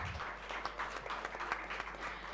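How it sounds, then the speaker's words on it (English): An audience at an eTailing India ecommerce event applauds a speaker. The clapping is faint and steady over a low electrical hum. "Please give him a big round of applause."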